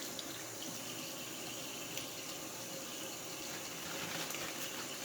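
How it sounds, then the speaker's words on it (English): Running tap water pours steadily over raw chicken wings being rinsed in a sink, a continuous close hiss and splash with no talking. "You still need to rinse them, of course, to get any debris off."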